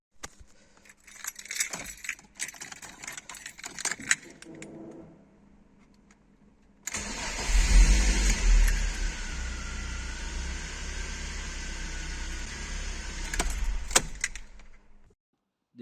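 A BMW E36 engine converted to run on ethanol cranks and fires after keys jangle and click in the ignition, then runs with a steady, fairly loud idle for several seconds before cutting off abruptly.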